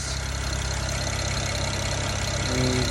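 A car engine idles steadily after an accessory belt replacement, a constant close rumble with a faint whining tone near the end.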